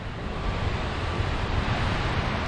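Water rushes near Ipobo weir in Yeoju, South Korea, as a steady, close broadband wash mixed with wind buffeting the microphone. The sound is continuous with no talking.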